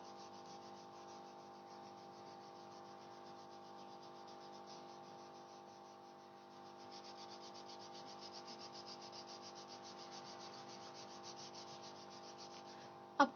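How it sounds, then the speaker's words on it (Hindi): Steady soft rubbing of dark colour across an artwork surface with a folded tissue, a continuous fine scratchy texture lasting throughout, slightly louder in the second half, with a brief knock at the end. "मैं रब कर रही हूँ।"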